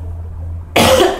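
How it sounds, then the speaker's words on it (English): A single sharp, harsh cough from a person with bronchitis bursts out loud and close after a second of quiet low hum, with no talking. "I've got this cough"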